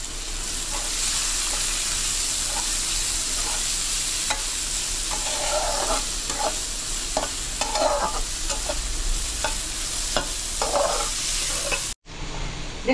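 Finely chopped onion frying in oil in a pan, a loud, steady, close sizzle with intermittent stirring scrapes, ending in a sudden cut near the end, no speech.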